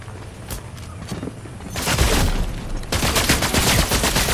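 Gunfire in a Fortnite battle royale match, loud sustained bursts of automatic fire crackling close by, growing denser in the second half.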